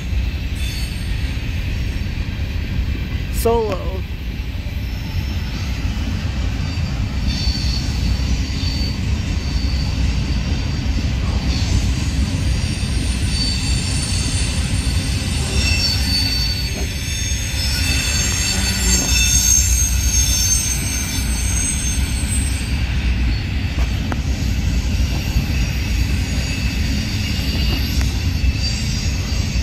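A heavy BNSF westbound coal train rumbles steadily past nearby, with a continuous roar, clanking and occasional wheel squeals; a brief word is spoken early on.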